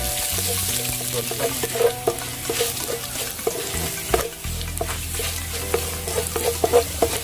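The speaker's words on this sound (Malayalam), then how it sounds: "വെളുത്തുള്ളിയും ഇഞ്ചിയും അരിഞ്ഞു വെച്ചത് നമ്മൾ അതിലേക്ക് ഇട്ടു" Chopped garlic and ginger fry in oil in a pan, a steady close sizzle with frequent stirring scrapes and clinks of a utensil throughout, no voices.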